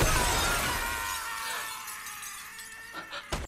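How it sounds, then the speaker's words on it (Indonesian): Glass bridge panels shattering in Squid Game: a loud, bright burst of breaking glass at the start that decays over a few seconds into scattered tinkling fragments, ending with a sharp crack. "kaca menjadi pecah dan terbang ke udara"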